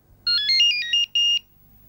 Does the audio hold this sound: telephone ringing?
yes